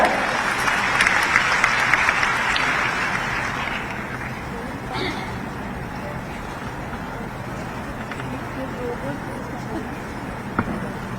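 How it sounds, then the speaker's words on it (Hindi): Applause from an audience at a Bihar government event welcoming the deputy chief minister, strongest in the first few seconds and then thinning into a steady crowd murmur with general background noise. "माननीय उप मुख्यमंत्री बिहार श्री विजेंद्र प्रसाद यादव जी जोरदार तालियों के साथ इनका अभिनंदन।"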